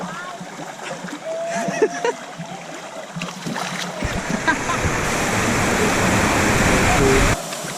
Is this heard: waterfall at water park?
yes